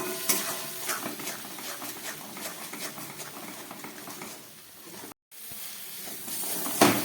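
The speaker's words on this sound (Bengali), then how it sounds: "এবার এইটাকে আমি খুব ভালো করে কষাবো।" Masala for a winter-style egg and potato curry (dim aloor dum) sizzles and frys in a pan while a spoon stirs it steadily, with a brief silent gap near the end before the scraping resumes.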